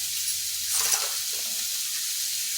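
A spoonful of cumin seeds hits a hot kadai and sizzles steadily, a close, even hiss that holds for the whole moment without any talk.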